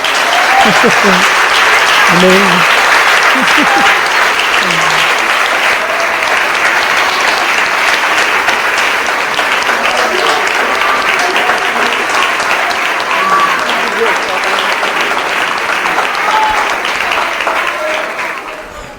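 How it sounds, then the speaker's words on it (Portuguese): Sustained applause from a church congregation fills the space, loud and steady for nearly twenty seconds, with a voice speaking briefly over the clapping. "aplauda o homem de Deus"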